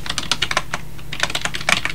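Rapid, continuous typing on a computer keyboard, close and clear, with dense clicking keystrokes in an uneven rhythm and no voices.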